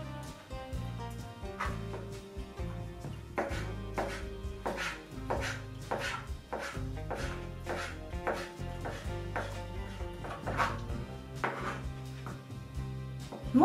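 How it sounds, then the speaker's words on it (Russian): Rapid, steady knife strokes finely chopping cabbage on a board, a dense rhythmic tapping that runs throughout without pause. "вот так я нарезаю мелко капусту"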